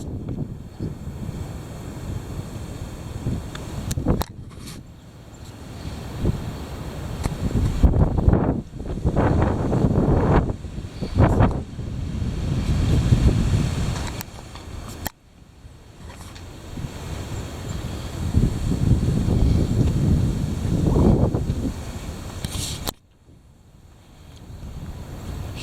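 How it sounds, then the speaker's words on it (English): Heavy wind roars and buffets continuously, loud and close, with surging gusts that rise and fall and a sudden brief drop near the end. "Here it is. The heavy wind."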